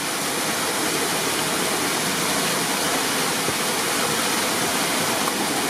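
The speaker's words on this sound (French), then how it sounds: "Cette l'eau tombe là, par cette goulotte" Water pouring through a chute onto the paddles of a hydraulic mill wheel, a steady, dense roar that stays loud and unbroken throughout, with no voices.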